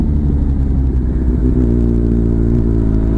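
A Kawasaki ZRX1200 DAEG motorcycle rides along with a loud, steady low engine rumble and a slight rise in pitch partway through, heard close with no voices.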